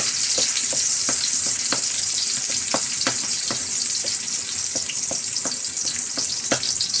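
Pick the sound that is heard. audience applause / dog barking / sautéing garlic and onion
sautéing garlic and onion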